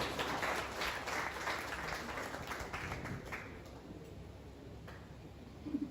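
Audience applause for a history lecturer at a commemorative talk in Cayenne, a steady, fairly distant wash of clapping that fades gradually over six seconds, with no voices over it.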